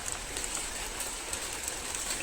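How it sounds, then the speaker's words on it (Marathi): Heavy rain falling steadily as the season's first downpour, a continuous close hiss with no talking over it. "आतां बरो पावस पडपाक लागलो"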